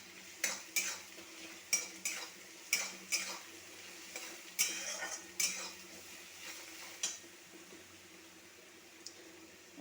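Garlic paste and masala stirred and fried in a pan, a soft sizzle under a series of sharp clinks as a utensil strikes the pan about once a second, close and without talk.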